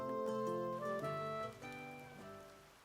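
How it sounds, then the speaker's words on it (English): Rain ambience in the video game Cattails, soft and fairly faint under a bright melodic game music tune, with no speech. "Oh, and it's raining."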